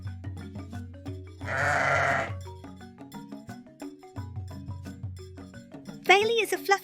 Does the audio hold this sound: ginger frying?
no